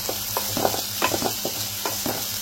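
Onions sauté in a pan for mutton sukka, giving a continuous sizzle with rhythmic scraping and stirring strokes every half second or so, close and fairly loud, no voices.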